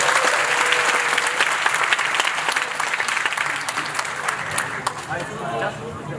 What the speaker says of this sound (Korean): 여러분의 힘찬 격려 박수 부탁드립니다